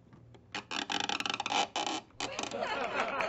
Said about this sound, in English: The creaky door.